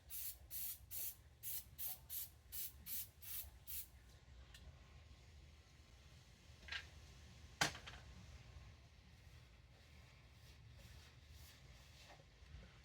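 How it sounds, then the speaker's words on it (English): Brake cleaner sprays onto a greasy engine part in about eight short hissing bursts in steady rhythm, close and sharp, followed by quieter handling noises and a single clink. "I'm just using brake clean just to break up the grease."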